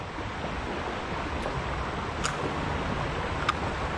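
Rushing water of a city creek fills the scene with a steady, broad hiss as it tumbles through rapids, with a few faint clicks and no talking.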